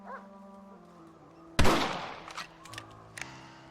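A single sharp rifle shot in Red Dead Redemption, loud and close, followed by a decaying echo and a few fainter trailing thumps, against a quiet background.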